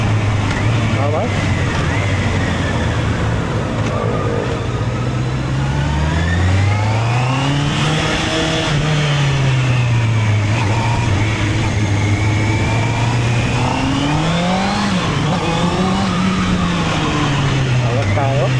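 A Honda CB650R E-Clutch motorcycle accelerates hard on the road, its engine note rising and falling through the gears, loud and close under continuous wind rush, with a person talking over it.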